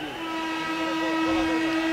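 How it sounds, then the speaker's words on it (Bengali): A train rumbles past with a sustained, loud horn blast held steady for the full two seconds, the rolling noise of the cars beneath it, near and strong. "ট্রেন আসতেছে।"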